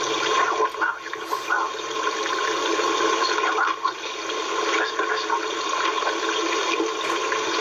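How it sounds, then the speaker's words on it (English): Creek water flowing continuously nearby, a steady watery hiss and gurgle that holds even through the clip, with no one speaking. "We're by a creek."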